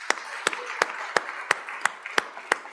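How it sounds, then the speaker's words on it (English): Applause in the Wyoming Senate chamber, heard as about eight crisp, evenly spaced claps in a steady rhythm that ring out clearly against a quiet room. "One more round of applause."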